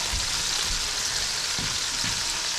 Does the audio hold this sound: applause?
no